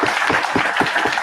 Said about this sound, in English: I want to give a big round of applause to the organizers